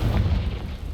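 A deep, booming blast of the Confringo fire spell in Hogwarts Legacy, heavy low rumble filling a single second with no voices.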